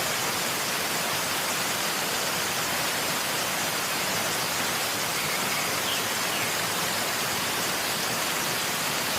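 Rushing water at Puray Waterfalls in Rodriguez, Rizal, Philippines, a steady broadband roar that fills the whole clip at an even level with no breaks and no voices.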